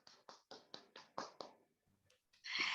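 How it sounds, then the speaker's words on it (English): Quiet, close applause after a speech at an online Toastmasters club meeting, heard as seven crisp, evenly spaced claps, then a pause and a short rustling burst at the end. "Huge round of applause for you."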